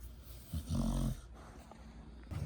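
A sleepy pet dog snores softly indoors, with one louder, rumbling snore-like breath near the middle and quieter breathing around it.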